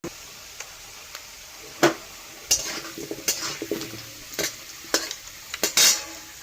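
Potatoes sizzle in a pan while a spatula scrapes and knocks against the metal in irregular stirring strokes, the frying hiss holding steady underneath.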